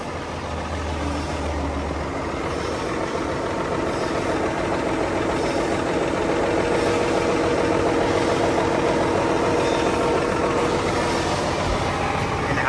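A Komatsu WA470-6 wheel loader's diesel engine runs steadily, a loud, continuous low rumble with a constant mechanical drone and no talking.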